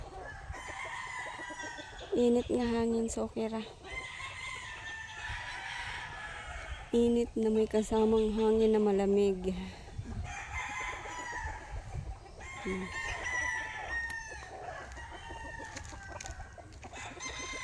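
Roosters on a farm crow repeatedly in long rising calls, some close and loud, others farther off, with clucking between them and a person talking in the background.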